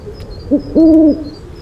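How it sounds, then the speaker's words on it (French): A companion owl hoots close and loud: a short lead-in note, then a longer steady hoot, with no other sound competing. "c'est mon ami Basile, mon hibou de compagnie. Dis bonjour vieux bougon"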